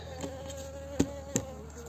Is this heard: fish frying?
no